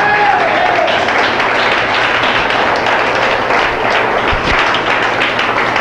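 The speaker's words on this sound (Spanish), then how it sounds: "Denle un aplauso al Señor" A church congregation applauds during a sermon, a steady, dense wash of clapping that fills the whole stretch with a few louder thumps near the end and some voices mixed in.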